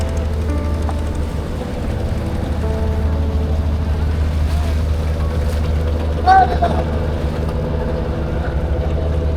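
Steady low engine drone from boats on the Buriganga river in Dhaka, heard from aboard a small wooden boat, continuous and moderately loud, with a brief exclamation partway through.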